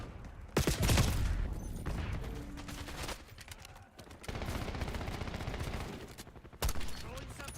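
Bursts of gunfire in Black Ops 6 crack out in several loud volleys, including rapid automatic strings, separated by quieter stretches of game ambience and a brief voice.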